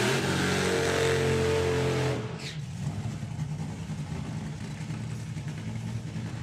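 Top Fuel Dragster at Bug Jam, Santa Pod Raceway, roars loudly and close, then the engine note drops away abruptly after about two seconds, leaving a lower, rougher engine rumble underneath.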